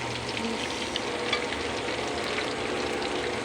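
Small-fish omelette (torta dulong) frying in a pan, a steady close, dense sizzle and crackle of hot oil with no talk.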